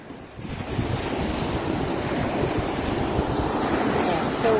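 Ocean waves wash steadily onto a beach at low tide at a resort in Elyu (La Union), a continuous broad roar of surf with wind buffeting the microphone throughout.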